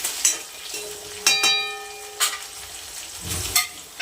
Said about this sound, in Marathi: आणि एक 5 मिनिटं फ्लॉवर तळून घेते व्यवस्थित.